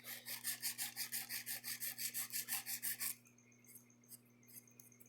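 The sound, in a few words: nail file shaping acrylic nails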